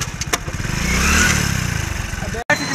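A motorcycle engine revs and holds a steady throttle at close range on a crowded street at a political march, loud and continuous with a brief cut near the end, while voices talk over it.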